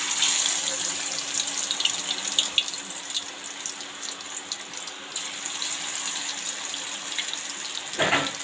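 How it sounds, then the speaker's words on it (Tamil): Chicken fries in plenty of hot oil, producing a continuous close sizzle with scattered crackles and pops throughout. "நல்லா பொடியுது."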